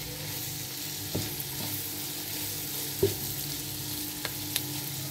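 Chicken cubes frying in a pan for a white pasta dish give a soft, steady sizzle close by, with a few faint knocks and clinks of a utensil and no voices.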